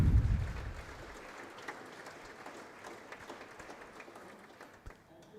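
Applause at an award ceremony for an innovation challenge, a soft, distant patter of clapping that stays faint after a low rumble at the start.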